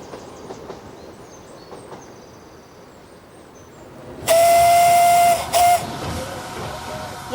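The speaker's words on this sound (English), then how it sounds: "With this being an old locomotive design from 1830, this is pretty much the first loco design" Steam locomotive of an 1830 design gives a loud, sustained whistle of about a second, followed by a shorter second blast, rising over a quieter hissing, rumbling background.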